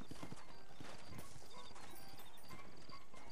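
Horse hooves clip-clop steadily in Red Dead Redemption, a continuous close rhythm of hoof strikes over dense, busy game ambience.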